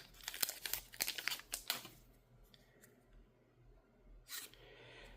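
Foil wrapper of a Magic-style trading card booster pack crinkling and tearing open up close, a busy burst of crackles for about two seconds, then quiet handling and a short final rustle.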